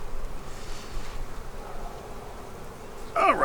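Honey bees buzz in a bee yard as a steady, close hum that swells louder in the final moments, with no voices.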